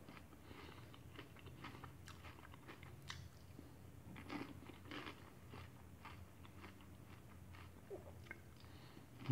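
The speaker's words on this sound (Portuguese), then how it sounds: "Pipoca com doce de coco. A crocância da pipoca." Popcorn coated in coconut sweet being chewed: quiet, close crunching and crackling bites repeating irregularly with no talk.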